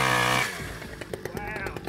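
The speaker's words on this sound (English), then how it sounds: "breaks out the old chainsaw and sets to work getting rid of that branch." Chainsaw cutting a branch on a four-wheel-drive bush track in the Gulf, a loud droning whine that drops off after half a second, followed by clattering and faint engine noise.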